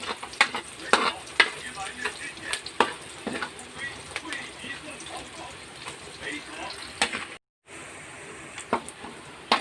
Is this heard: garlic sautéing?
yes